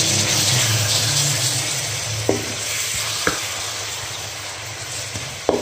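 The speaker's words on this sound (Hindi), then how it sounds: "ऑयल को मैंने चूल्हे पर चढ़ा दिया है, तो इसमें मैं डाल दूंगी प्याज का जो मैंने बना के रखा है" Onions frying in hot oil in a pan on a stove for a lentil curry, a steady broad sizzle throughout with a few sharp clinks of a spoon against the pan.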